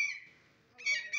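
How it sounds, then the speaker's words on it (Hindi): Parrots at a small zoo give loud, harsh squawking calls nearby, one shrill cry followed by a pause and then two more sharp screeches in quick succession. "बड़े खूबसूरत तोते"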